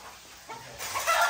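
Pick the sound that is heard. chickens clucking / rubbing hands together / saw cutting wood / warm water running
chickens clucking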